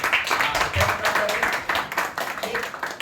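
Audience applause at a Modicare business testimonial meeting in Ghodegaon, Ahmednagar: a dense, steady patter of many hands clapping for about three seconds, with voices mixed in.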